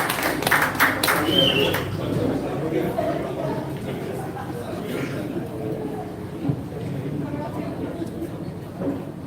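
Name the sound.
applause for the opening of a cafe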